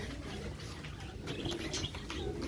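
A flock of blue-barred homing pigeons stirred up and startled, giving a steady faint wash of wing flutter, coos and chirps at moderate distance with no voices.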